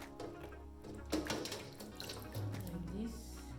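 Tap water runs steadily over eggshells held in a kitchen sieve, a faint, close, continuous rinsing splash with a low voice heard briefly underneath.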